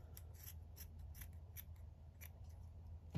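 Scissors snip around the edges of stamped fabric for a paper craft project, making a quick, regular run of close crisp cuts over a low steady hum.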